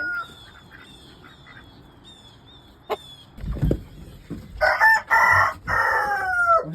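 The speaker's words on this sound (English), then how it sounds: "Go head in there and check out the chickies." Homestead chickens in a coop: soft repeated clucks and calls, then a loud nearby rooster crow rising out of the flock, with a brief knock partway through.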